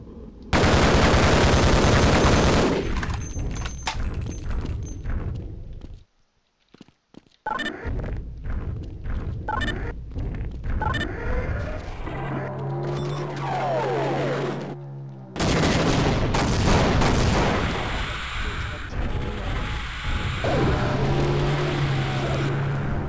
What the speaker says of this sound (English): Fucking airstrikes